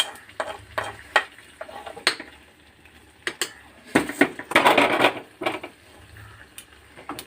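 A spoon stirs ghee and cashews in a pan, giving light scraping and clinking strokes in an uneven rhythm, with a denser sizzling stretch in the middle, close and fairly quiet.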